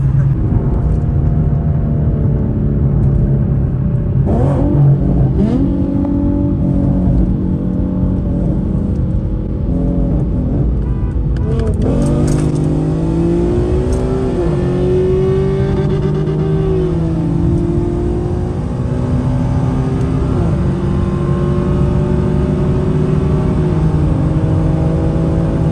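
A tuned Infiniti Q50 and a tuned Nissan 350Z with a 3.8 engine and aftermarket exhaust, both on E85, accelerating hard. There is a loud, continuous engine drone with rising and falling rev sweeps and a gear change midway.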